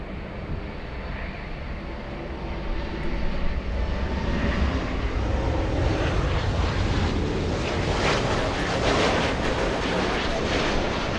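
Delta airliner landing on runway 24 right at LAX, a broad roaring jet rumble heard from a distance that swells gradually and holds loud and steady over several seconds, with some wind buffeting on the microphone.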